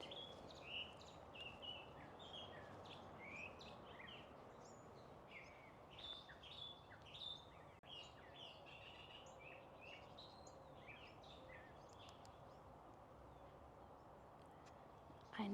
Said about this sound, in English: I know y'all hear the birds.